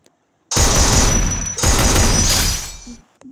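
Rapid shotgun fire in the Free Fire battle game comes as two loud, dense bursts of blasts back to back, close and harsh, followed by a short quiet tail.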